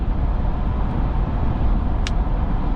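Inside the cabin of a Ford F350 or Chevy Silverado 3500 heavy-duty pickup on Bridgestone Dueler tires at about 65 mph, a loud, steady low tire-and-road roar fills the cab, with a brief faint click partway through.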